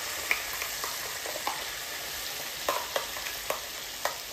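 A paste of onion, garlic, ginger and cumin fries in hot oil with a continuous close sizzle, punctuated by irregular scraping clicks as it is stirred in the pan.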